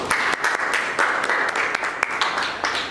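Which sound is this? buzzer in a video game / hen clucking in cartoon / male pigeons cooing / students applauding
students applauding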